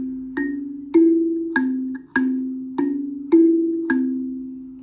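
A coconut thumb piano plucks the opening of Frère Jacques in a steady run of eight clear, ringing notes, each twangy tine pluck decaying slowly into the next, close and with no talking.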